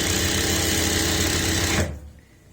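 A sewing machine stitches along a kurti collar in a steady, loud run for nearly two seconds, then stops abruptly, leaving a faint quiet tail.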